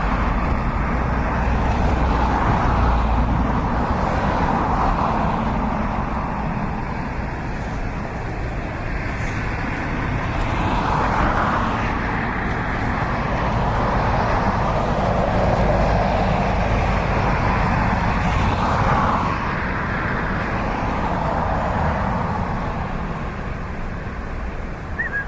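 An ATR turboprop airliner arriving at Dublin Airport on a crosswind day gives off a steady, droning engine roar that swells and fades gently over the whole stretch, with no voices.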